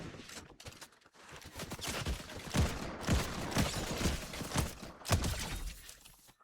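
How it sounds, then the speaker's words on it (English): Rapid bursts of gunfire from the video game Fortnite, a string of sharp cracks at close range that come in clusters and stand loud in the foreground with no voices over them. "Someone's firing at me."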